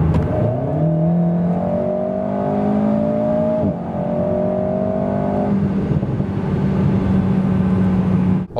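A 2023 Alpine A110 GT with a 1.8-litre 300 hp engine accelerates hard from about 90 to 140 km/h, its engine note climbing steadily through the gears with a brief dip at a shift, loud and close with no talk.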